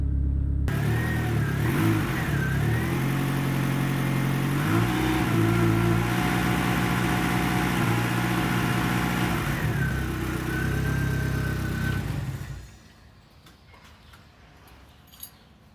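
An AWD Mini Cooper engine with sequential injection revs up and down repeatedly, loud and close, holding a rough mid-pitched drone before cutting off abruptly into near silence.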